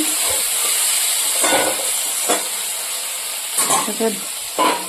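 Tomato with turmeric and salt sizzles in a pan, a loud constant hissing fry broken by several scraping strokes of a spoon stirring the mixture.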